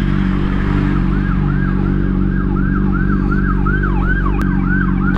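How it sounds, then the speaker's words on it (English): Emergency vehicle sirens wail in a steady, repeating up-and-down sweep along a city street, loud and continuous over a dense traffic rumble, with a brief sharp click near the end. "Hella sirens."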